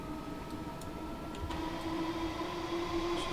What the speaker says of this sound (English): Or electric trains with that sort of, that very distinctive motor sound to it.